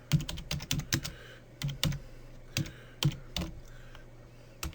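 Typing on a computer keyboard while entering notes into a program, with close, crisp key clicks arriving in quick bursts separated by short pauses.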